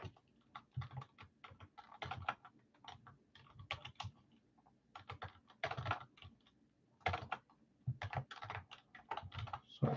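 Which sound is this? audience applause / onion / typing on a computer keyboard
typing on a computer keyboard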